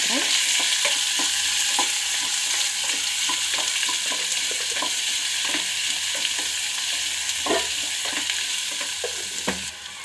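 Onions with cumin and mustard seeds sizzle steadily in hot oil in a pan, a bright continuous hiss close up, punctuated by regular scraping stirs and soft taps of the spoon, with no voices.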